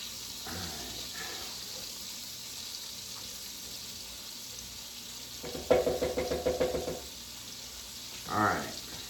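Butter melts into leftover bacon grease in a pan while cooking a French beef roast, giving a steady soft sizzle with a brief burst of crackling and a few clanks from the pan, no talking.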